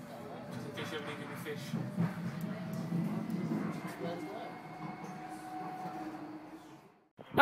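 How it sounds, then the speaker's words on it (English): Passenger train on a London line toward Canary Wharf, a steady low rumble of wheels and carriage noise running continuously, with a sharp clatter at the very end. "we're going to have to get off the train"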